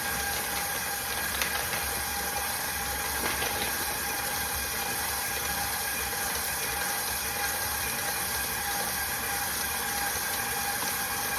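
A stand mixer runs on speed 4 beating soft butter, a steady mechanical whir with a faint ratcheting rattle that holds constant throughout, close and without talk.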